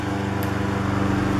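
A lawn mower engine drones steadily just outside a window, a loud continuous motor hum with a regular pulsing rhythm, heard alone without talk.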